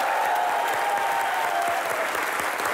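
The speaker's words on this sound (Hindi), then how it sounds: "जोरदार तालियां बनती हैं" A studio audience on a Hindi comedy talk show applauds heavily and steadily for a cricketer guest, thick clapping with a faint murmur of the crowd beneath it.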